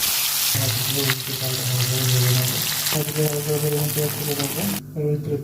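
Turmeric- and salt-rubbed fish pieces fry in well-heated oil for a Bengali potato-and-fish curry, giving a loud, continuous close-up sizzle beneath a steady melodic tone that runs throughout.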